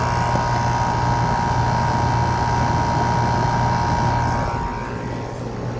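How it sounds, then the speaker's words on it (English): A 2019 Goodman GSX14 central air conditioner runs steadily, its compressor humming low beneath the whoosh of the outdoor fan, a close, constant drone that eases slightly in the last second with no one speaking. "this has a really nice compressor sound"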